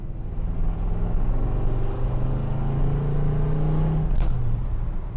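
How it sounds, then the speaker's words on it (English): V8 engine of a 1984 GMC Squarebody pickup revving nearby, a steady deep rumble with a rising harmonic that swells toward the end before a brief sharper burst, loud and continuous without any voices. "let's hear what this V8 sounds like"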